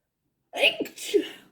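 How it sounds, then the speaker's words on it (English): One close, sharp sneeze with a quick inhale and explosive burst, then a trailing breathy tail, heard alone. "Sneeze."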